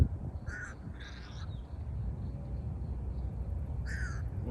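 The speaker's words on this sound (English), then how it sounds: "That bird seems a little upset." A crow caws about three times outdoors in the wild, each call a short harsh burst heard moderately near over a low background rumble, with a long pause before the last call.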